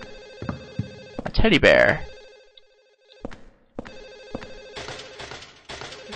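A telephone in the video game Silent Hill 4 rings repeatedly in an even electronic trill that goes on throughout, with someone talking over parts of it.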